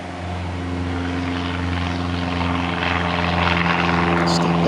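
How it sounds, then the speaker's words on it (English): A small propeller airplane passes low overhead in the flight path of a small airport, its steady droning engine hum with strong harmonics filling the whole stretch, loud and continuous. "Sorry about the plane. I'm directly in the flight path of a small airport here"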